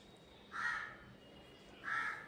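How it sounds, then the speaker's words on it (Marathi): A crow caws twice outdoors, two distinct calls about a second and a half apart, moderately far off over quiet background. "आज कावळा लय बोलवत होता तुला"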